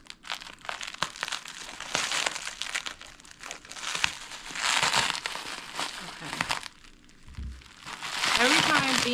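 Plastic bags crinkle and rustle up close during an unboxing of clay La Chamba cooking pots, a steady crumpling that comes in uneven waves with brief lulls, loud and continuous for several seconds.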